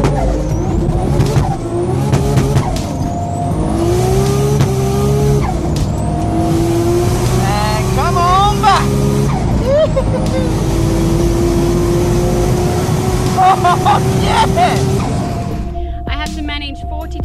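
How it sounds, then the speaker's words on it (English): A competition car tears through a high-speed 400 or 800 metre drag racing pass at Racewars 2014, its engine screaming loud and close through rising gear changes, with rapid revving and a steady roaring wall of noise. "allows spectators to experience the thrill of a high-speed 400 or 800 pass in a competition car"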